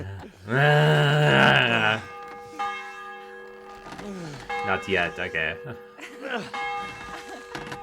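Bell ringing in the Inspector Gadget video game, a loud sustained tolling tone at the start followed by fainter ringing overtones, with voices talking over it.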